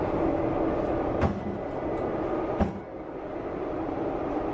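A moving subway train roars in a steady, loud rumble from inside the car, with two sharp clanks breaking through the continuous noise.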